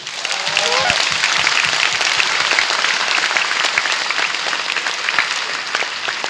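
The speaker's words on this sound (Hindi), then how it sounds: "दोस्तों आप सही जगह में एक बार जोरदार ताली कर सकते हैं।" A large seated audience at a health-awareness event claps loudly and continuously, a full, dense roar of hands that swells early and stays strong throughout, with a faint voice briefly under it near the start.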